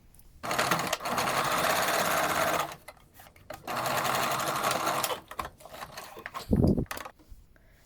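A sewing machine runs a face mask seam in two long steady bursts of rapid stitching separated by a pause, then stops, followed by a short low thump and light handling noise.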